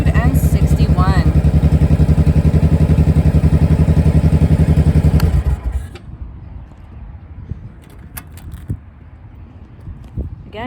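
A 2005 Honda Shadow Spirit motorcycle engine runs loud and steady for about five seconds with a rapid even pulse, then cuts out, leaving faint clatter and low background noise.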